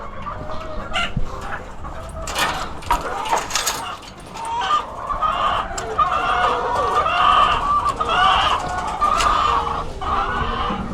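Chickens clucking and calling inside a backyard coop, close and lively, with repeated overlapping clucks and squawks that rise and fall, plus scattered knocks and scuffs from the pen.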